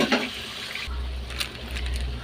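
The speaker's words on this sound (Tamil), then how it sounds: "இந்த மிக்ஸி ஜாரில் வந்து தண்ணி சேர்த்துட்டு அப்படியே அந்த தண்ணி அப்படியே ஊற்றிப்போம்." Water from a mixer jar splashes and pours into a pan, a short liquid gush with low rumbling beneath and a few light clinks.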